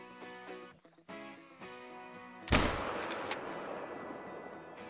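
A single sharp hunting rifle shot cracks out in Call of the Wild, loud and sudden after a stretch of tonal ambience, then rolls away in a long fading echo.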